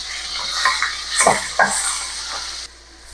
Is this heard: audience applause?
no